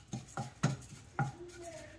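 A handful of flattened rice (avalakki) being roasted in a hot pan, with several close scraping, tapping strokes of a spoon against the pan in an uneven rhythm.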